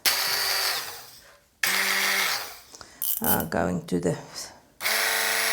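Moulinex Quickchef blender motor whirring loudly in short repeated bursts, each starting abruptly and cutting off, with a person talking briefly between runs.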